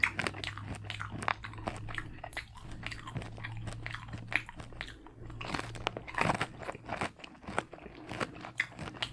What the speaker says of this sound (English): hopefully this bacon's nice and crispy